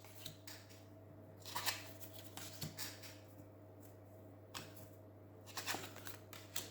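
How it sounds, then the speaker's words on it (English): Board game cards are turned over one after another on a table, giving soft, close flicks and slides over a quiet low hum. "So for the next turn, we turn over all these cards."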